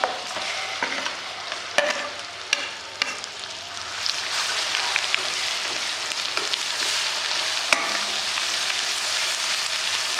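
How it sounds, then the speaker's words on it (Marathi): Masala paste for katachi amti, a Maharashtrian lentil curry, being stirred and fried in a pan, giving a steady close sizzle with scraping stir strokes and no voices. "वाटण चांगलं परतून द्यायचं।"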